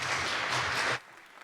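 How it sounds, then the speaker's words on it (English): Audience at the WHY 2025 tech event applauding a speaker, loud, dense clapping from many hands that stops abruptly about a second in, leaving a quiet room. "a really big applause for Morgan"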